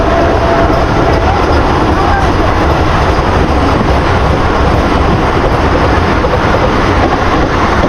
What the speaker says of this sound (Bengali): এখন ট্রেন ঢুকছে 22-302 বন্দে ভারত এক্সপ্রেস